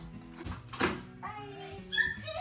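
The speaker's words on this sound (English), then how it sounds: "She's a little Pomeranian poodle." An old Pomeranian poodle, about twelve years old, gives short whimpers and thin high whines, close by, in a brief burst mixed with other soft sounds.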